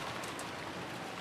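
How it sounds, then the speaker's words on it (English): Heavy rain in a visual novel video game, a steady broadband downpour with no voices, uniform and fairly faint throughout. "Outside, the rain poured down heavily."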